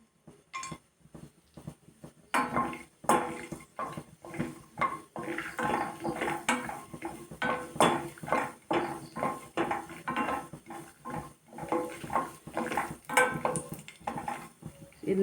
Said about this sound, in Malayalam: നമുക്ക് 1 ടേബിൾ സ്പൂൺ കപ്പലണ്ടി ആദ്യം ഇടാം.